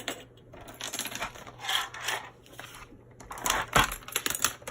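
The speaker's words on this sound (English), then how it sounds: "And then I'm going to cut it down with my trimmer." A paper trimmer slices through cardstock, giving a series of short, crisp sliding and clicking sounds close by, in uneven bursts.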